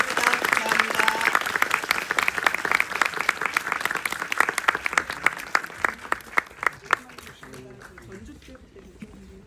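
Audience applause closing a talk with director Lee Chang-dong at the Busan film festival, a dense burst of many hands that thins into scattered claps and fades out, with voices faintly under it.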